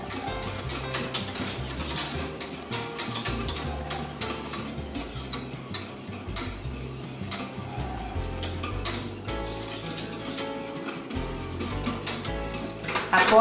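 Spoon stirring a thick strawberry tartlet cream with milk in a pan over the flame, a steady run of close scraping and clinking strokes against the pan, alone with no talk.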